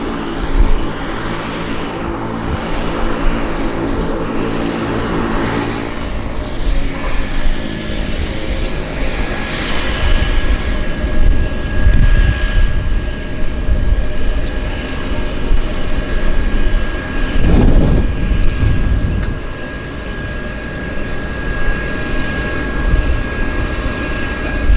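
A Cessna Caravan on floats, loaded with passengers at a downtown harbour airport, runs with a steady, loud propeller-engine drone that holds evenly throughout, with a brief louder rumble partway through.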